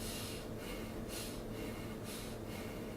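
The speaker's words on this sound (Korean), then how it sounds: "연결해서 들숨과 날숨 사이가 끊이지 않도록 이렇게 연결해서 호흡을 쉬는데" Steady, unbroken breathing drawn in and out slowly, with soft airy swells about once a second and no pauses between breaths, close and quiet.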